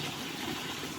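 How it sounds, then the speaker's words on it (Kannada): Water flows steadily through a roadside drain carrying river water to fields, a continuous rushing gush held at an even level for about a second with no talk. "ಈ ಮೋರಿನಲ್ಲಿ ಕೂಡ ವಾಟರ್ ಫ್ಲೋ ಆಗುತ್ತೆ"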